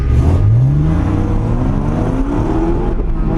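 A Mazda MX-5 drift car in the Driftland video game, its engine revving up in rising whining sweeps, loud and close, with a steady rasping exhaust drone and no talk.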